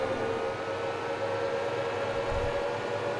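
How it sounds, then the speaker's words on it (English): An electric vehicle's motor runs in Farming Simulator 22, a steady tonal whine held over a low hum throughout, moderately loud with no voices. "listen to that, the purr of that electric engine."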